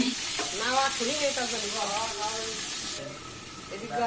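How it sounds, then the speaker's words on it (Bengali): Eggs frying with onion, garlic and ginger paste in a pan: a continuous close sizzle and hiss with a person talking over it throughout. "এগুলোকে আমি ভেজে নেব ডিমের সঙ্গে।"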